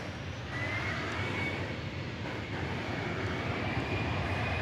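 A jet airplane coming in to land at DFW Airport produces a steady, broad engine roar with a faint whine on top, continuous and fairly distant throughout, with no speech.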